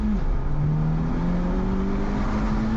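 A Honda Civic accelerating, its engine note rising steadily in pitch as it revs up through the gear, loud and close, with no talk over it.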